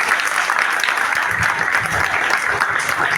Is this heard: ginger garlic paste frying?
no